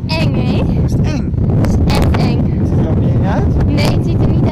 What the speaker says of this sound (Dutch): Het waait zo hard en het waait met windvlagen.